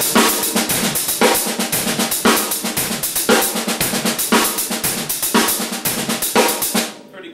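A drum kit plays single and inverted paradiddles in a rapid, steady pattern of strokes with regular accented hits, loud and close, then rings out and stops at the end.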